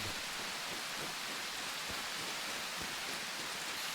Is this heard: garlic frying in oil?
no